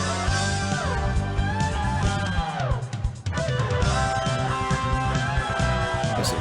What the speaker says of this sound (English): The US version has an instrumental track that sounds like this.